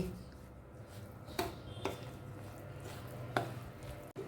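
Semolina batter with yogurt and water is stirred by hand, giving a few soft wet slaps and scrapes against the bowl at irregular intervals over a quiet background.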